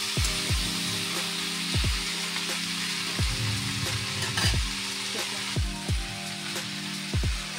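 Drained steamed banana flower fries in a wok with a steady, close sizzle, punctuated by repeated knocks of a spatula stirring against the pan.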